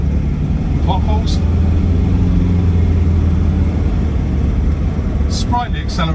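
Land Rover Defender 90 TDCi automatic rumbles over bumps and potholes with a steady low engine and road drone inside the cab, plus a few brief knocks and rattles near the start and end.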